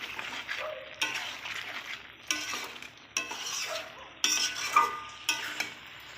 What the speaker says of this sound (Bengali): অল্প করে কষিয়ে নিতে হবে, মানে আধ মিনিটের মতন।